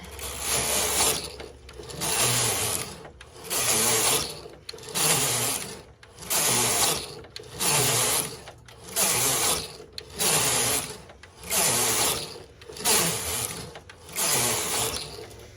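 A Silver Reed knitting machine knits rows of stockinette with fair isle and plating yarn, its carriage sweeping back and forth in about eight regular, rhythmic mechanical passes with clacking and whirring, close and alone with no talk.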